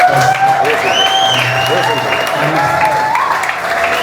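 Steady applause from a crowd fills the whole stretch, with voices and a tonal sound weaving through it at constant loudness.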